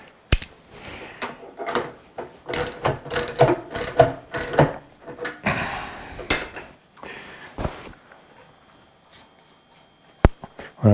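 A collet on a lathe is cranked down tight with a ratcheting wrench, giving a series of loud metallic clicks and clanks in uneven bursts, close by, then a quieter stretch with a few sharp knocks.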